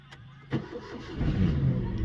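A car engine cranks and catches as a learner driver starts up before engaging gear: a brief crank, then a steady low idle that settles in, close and moderately loud.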